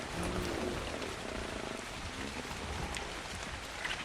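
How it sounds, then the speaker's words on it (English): Steady rain falls in the survival game ARK on the Valguero map, a dense continuous hiss of drops spattering on surfaces, even and loud throughout with faint low rumbles beneath. "It's raining."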